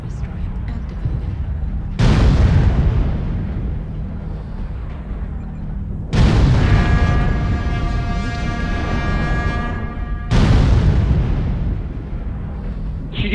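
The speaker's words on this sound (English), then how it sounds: "Artillery strike activated." Artillery strike explosions from a Charger 1A5 battle in MechWarrior Online: three heavy booming blasts roughly four seconds apart, each loud and rumbling with a long decaying roar, the middle one carrying a ringing metallic tone.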